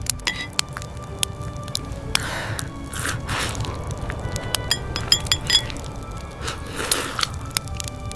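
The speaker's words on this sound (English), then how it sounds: "Mochi stretches between spoon and bowl, forming a glistening strand before slipping back with a soft, sticky sound." Sticky mochi in red bean soup stretches between a spoon and a bowl, giving soft, close squishy sounds broken by sharp clinks of the spoon against the bowl, over a quiet crackling background.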